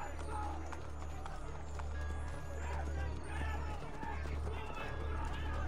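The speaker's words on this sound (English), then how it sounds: "It's really cool how you get to ride horses in the location that you're in" Steady rhythmic hoofbeats of a galloping horse in Assassin's Creed Brotherhood Remastered, with a low rumbling bed underneath, moderately loud and continuous throughout.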